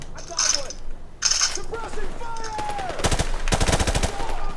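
Bursts of gunfire from the shooter game Call of Duty Modern Warfare Remastered, short volleys and rapid automatic fire with mechanical clicks and clatter between shots, loud and close.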